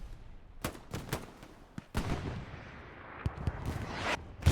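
In the WWII shooter game Hell Let Loose, a competitive match in Sainte-Mère-Église carries a chaotic battle soundscape. Distant booms and sharp gunshot cracks repeat irregularly, with a heavier explosion rumbling near the middle and more blasts toward the end.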